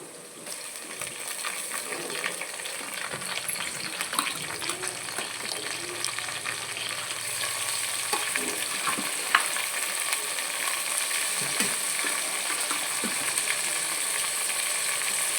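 Washed chicken pieces added to browned onions in a hot pan for chicken gravy, sizzling and frying steadily with intermittent scrapes and clinks of stirring, close and continuous.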